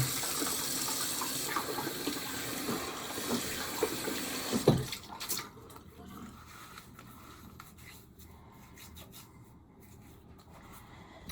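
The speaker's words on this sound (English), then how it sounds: "Wash the face down." Tap water runs steadily into a sink while someone splashes and rubs their face clean after a wet shave with a brush and lather. The flow cuts off after about five seconds, leaving a quiet room with faint handling noises.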